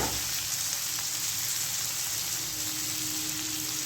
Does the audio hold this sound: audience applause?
no